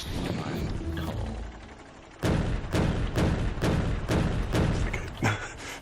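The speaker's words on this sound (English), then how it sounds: "the cannon shoots way too fast now. I didn't realise cannon shooting speed, it just shoots like bang, bang, bang, bang, bang" A cannon turret in the game Factorio fires in quick succession, a run of loud, sharp booming shots spaced about half a second apart, with a player talking over the start.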